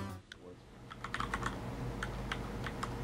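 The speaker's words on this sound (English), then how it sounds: "It sounds great with the Cherry MX Browns." Typing on a Quickfire Stealth mechanical keyboard fitted with Cherry MX Brown switches, a steady run of close, crisp key clicks and thocks in an irregular rhythm, heard alone with no voices.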